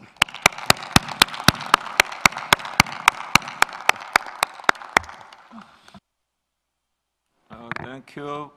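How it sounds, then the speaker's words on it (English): Committee delegates at the 12th session of an intergovernmental committee applaud the chair: evenly spaced, sharp claps over a steady bed of clapping for about five seconds, fading out before a voice begins speaking. "I invite my colleagues to give you a warm applause for this success."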